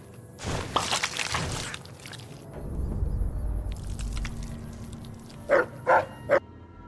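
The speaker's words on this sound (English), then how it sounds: "Dog's name is Rex" A dog barks in the video game Fallout: New Vegas: a few short, close barks near the end, after a stretch of in-game thumps and ambient noise, with no speech.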